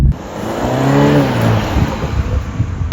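A 2021 Toyota GR Supra 2.0 engine in sport mode revs up hard, its pitch climbing then settling into a loud, steady roar, close by with no talking.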